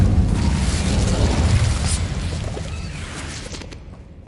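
A fire spell cast in the Hogwarts Legacy video game: a loud, roaring burst with a deep low rumble and whooshing hiss that swells at once and slowly fades over several seconds, with no talking.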